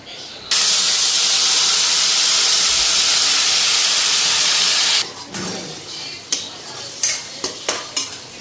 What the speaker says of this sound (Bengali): সয়াবিনের মশলাটা ফ্রাই করে নিই